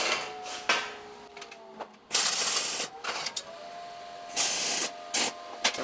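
A metal axle rod for a homemade welded catapult is cut with a power tool in several loud hissing bursts separated by pauses, with a faint whining tone between cuts.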